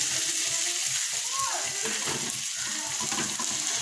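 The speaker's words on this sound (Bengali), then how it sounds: "লঙ্কার গুঁড়ো হলুদ গুঁড়ো দিয়ে দিয়েছি সামান্য একটু জল দিয়ে মশলাটা কষাচ্ছি" Masala of chilli powder and turmeric sautéed with a little water, a soft continuous sizzle and bubbling with faint stirring, heard close up while a voice speaks over it.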